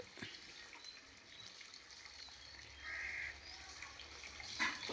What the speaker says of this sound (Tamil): எங்கள் வீட்டு குழாயிலேருந்து குற்றாலம் தண்ணி மாதிரி வடியுது